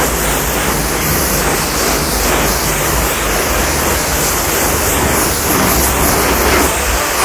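A spray hose rinses water over a car hood after a wax application, a loud, continuous broadband hiss of water with no break and no speech.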